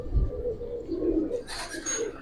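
Pigeons of old, fancy and racer breeds such as Giribaz coo softly and repeatedly at close range in a loft, joined by a brief rustle of wings or handling near the end.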